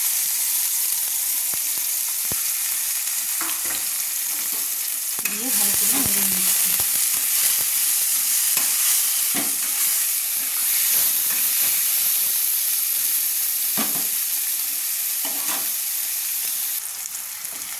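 Chopped tomatoes and onions fry in hot oil with a loud, steady, hissing sizzle that runs throughout, broken by occasional soft clicks and scrapes from the pan.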